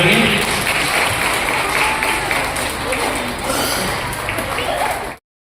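Guests are welcomed with applause at a Swami Dayanand Saraswati birth anniversary celebration in an Arya Samaj temple hall in Uttam Nagar. Dense, sustained clapping from a crowd lasts about five seconds, then stops abruptly.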